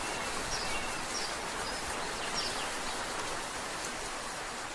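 Steady rain pours evenly and continuously, a dense, close hiss of drops with faint bird chirps in the background and no voices.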